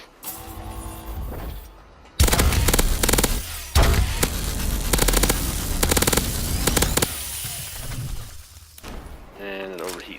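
A futuristic energy weapon in Call of Duty: Advanced Warfare fires a sustained pulsing beam. It crackles and buzzes loudly in stuttering bursts for about six seconds after a sudden start, with a voice heard before and after the firing.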